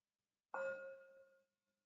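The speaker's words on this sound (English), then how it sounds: "we'll begin with just the sound of the bell." A mindfulness meditation bell is struck once, giving a clear, bright ring that hangs and slowly fades over about a second in an otherwise silent room.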